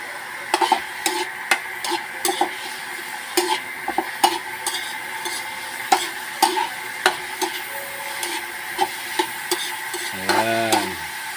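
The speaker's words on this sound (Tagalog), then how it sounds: "Bawang sibuyas, sinalo na natin. Paluto-lutuin natin yan, pa brown brown." Garlic and onion sauté in a pan for pork adobo, with a soft continuous sizzle under frequent sharp scraping and tapping of a spatula while stirring, close up and without talk.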